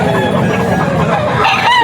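A young gamecock stag, held at a seller's stall in Bocaue, Bulacan, crows loudly up close, mixed with clucking over a continuous noisy market background.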